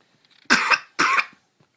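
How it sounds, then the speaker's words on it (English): Two harsh coughs come close together in a quiet room, each a short raspy burst followed by silence. "Oh, that's a bad cough."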